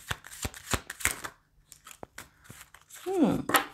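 Tarot cards are riffled and slapped in quick bursts, followed by a brief card being drawn, with someone speaking softly in between.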